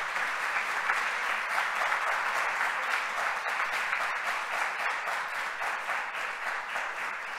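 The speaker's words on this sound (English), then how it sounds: "Can we have a round of applause for our 2 guests?" Conference attendees at a state policy summit give a sustained round of applause for two guests, even and continuous, with no talking.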